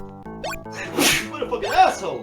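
A person sneezes abruptly, with a loud explosive burst rising out of surrounding chatter, then an excited voice immediately shouts over it.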